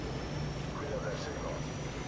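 A helicopter in Call of Duty: Modern Warfare 2 Spec Ops gives a steady, moderately loud rotor and engine drone throughout, with muffled game noise mixed in.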